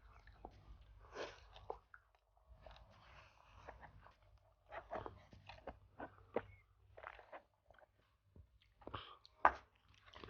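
Close, crisp bites and chewing on crunchy Jollibee fries dipped in gravy come in irregular bursts with short pauses, fairly quiet overall.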